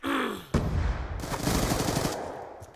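Rapid automatic gunfire from a multiplayer video game shooter, loud and close, with a brief pause then sustained bursts of shots continuing to the end.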